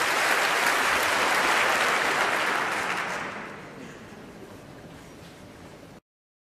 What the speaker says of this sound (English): And here he comes to a welcoming round of applause